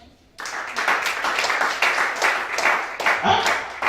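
A church congregation breaks into sustained applause after a brief quiet moment, a loud, close wash of many hands clapping with a few voices mixed in.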